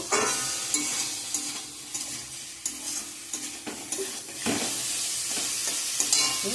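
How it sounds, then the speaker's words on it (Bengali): Potatoes and paneer stir-fry in a pan with steady sizzling and frying, with repeated scraping stirs of a spatula at irregular intervals, close and clear with no talking. "ভেজে রাখা আলু পনিরগুলো দিয়ে দিলাম তো ভালো করে একটু কষিয়ে নিয়ে ভাজা ভাজা করে নিয়ে"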